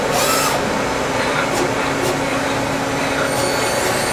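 A Citizen M20 CNC Swiss lathe runs its live tools at 3500 RPM, giving a steady, loud mechanical whir and hiss with a few brief sharper high-pitched bursts throughout.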